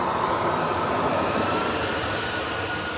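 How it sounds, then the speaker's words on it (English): An EasyJet jet takes off from Manchester Airport, a loud, sustained engine roar with a dense rumbling low end that eases slightly toward the end, with no voices. "Up next is the EasyJet heading off to Kirkira Island."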